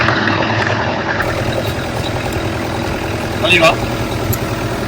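A tracked machine fitted with Camso tracks is started and then idles steadily, a close, continuous mid-to-low engine rumble. A person speaks briefly near the start, and a short higher clatter comes near the end.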